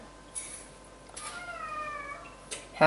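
A cat meows a few times in a home kitchen during cake baking, soft drawn-out cries heard fairly close, with quiet room noise between them and no talking.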